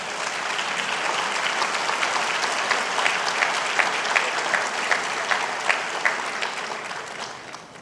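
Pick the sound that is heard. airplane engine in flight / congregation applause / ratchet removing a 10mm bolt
congregation applause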